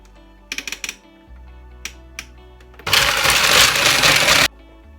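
A blender whizzing tiger nut pancake batter: a few clicks and taps as the lid goes on, then a loud steady whir that runs for about two seconds and cuts off.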